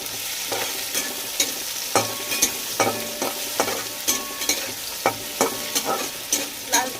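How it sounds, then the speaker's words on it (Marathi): Onion fries in hot oil in a pan over a low flame, a steady sizzle broken by repeated rhythmic scraping strokes of a spatula stirring, close and clear with no voices. "तेल गरम झाल्यानंतर आता कांदा आपल्याला छान असं भाजून घ्यायचा आहे"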